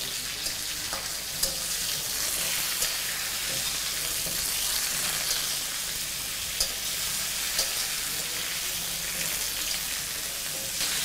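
Raw mango pieces frying in oil tempered with five-spice and dried red chillies, a bright, crackling sizzle heard close and continuously with occasional stirring clicks, no talking.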